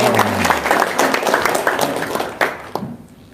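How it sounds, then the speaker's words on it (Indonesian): A studio audience gives a short burst of applause. The clapping is fairly close and lively at first, then thins and fades away after about three seconds. "Tepuk tangan dong."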